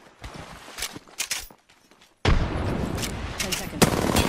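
Gunfire in the battle royale game Apex Legends: scattered shots and footstep-like clatter give way to a sudden, loud, sustained burst of rapid firing that continues to the end.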